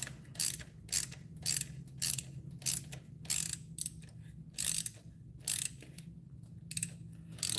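A ratchet with an 8mm socket tightens a worm-drive hose clamp on a GM 1.4L engine, producing short bursts of sharp clicking, about a dozen quick ratcheting strokes separated by brief pauses, close and clear.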